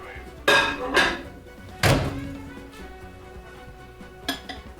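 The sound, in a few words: dish placed into microwave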